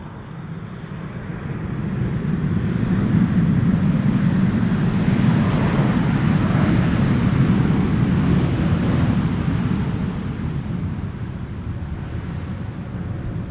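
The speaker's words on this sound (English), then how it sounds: "KLM flight 644 up next, 787-10 Dreamliner arriving from New York JFK" A KLM Boeing 787-10 Dreamliner arriving at Schiphol Airport, a broad roaring jet rush that swells as it passes nearby and then eases off, with wind noise and no talk.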